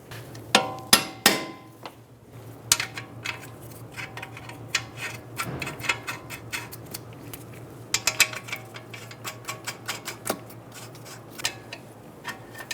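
Ratchet wrench tightening a front strut bolt on a 2007-2011 Toyota Camry, giving quick bursts of close metallic clicks with a few sharper knocks, fairly quiet and with no talk.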